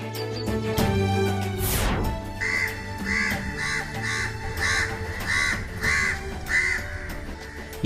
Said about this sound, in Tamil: காக்கா கத்துது.